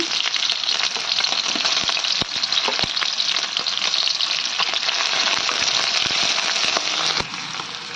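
Onions fry in hot oil in a wok, making a loud, dense, continuous sizzle full of sharp crackles and pops that eases slightly just before the end.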